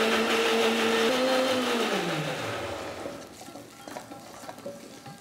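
A mixer grinder blending green chilli with sauteed tomato for palakaramani gravy, its motor whirring loud and steady, then winding down with a falling pitch and leaving faint rattles and clicks.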